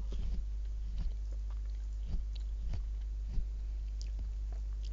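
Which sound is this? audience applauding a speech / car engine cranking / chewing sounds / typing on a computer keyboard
chewing sounds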